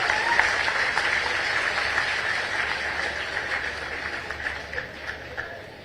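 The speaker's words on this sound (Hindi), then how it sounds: "एक बार ताली बजा के उनका स्वागत कीजिए" Audience at a state industry summit in Madhya Pradesh applauding to welcome award recipients, a sustained wash of clapping from a large crowd that gradually thins out.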